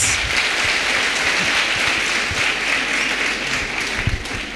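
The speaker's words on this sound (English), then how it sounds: "Can we give them a round of applause?" A school audience at a girls' high school gives a team a round of applause, with dense, steady clapping from many hands that fades slightly near the end.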